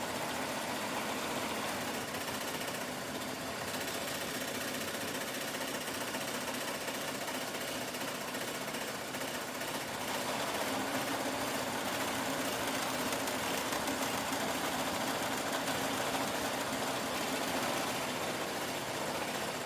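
An embroidery machine stitching a hat runs steadily and fairly loud, a continuous fast mechanical whirr and chatter with no pauses from start to finish.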